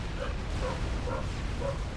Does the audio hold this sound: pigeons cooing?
no